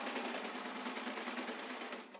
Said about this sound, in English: Lift up the front of your presser foot so it kind of clamps that elastic into place, and then serge